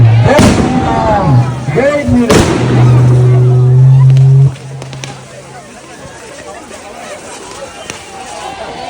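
Firecrackers burst at a Dussehra celebration, two sharp loud bangs early on amid crowd noise and a steady hum, then quieter background chatter.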